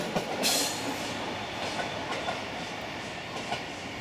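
A train rolls past in Basel, Switzerland, a steady close rumble with faint rhythmic clickety-clack of wheels over rail joints running unbroken from start to finish.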